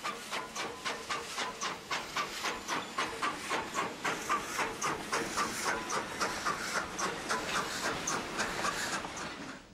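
A 1920 Alco steam locomotive at a Cuban sugar mill working hard, with a rapid, even, rhythmic chuff of exhaust beats that stays loud throughout and slightly quickens.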